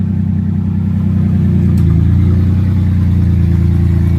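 A car engine idles steadily after startup, a loud continuous low rumble that firms up a little partway through, with no voices.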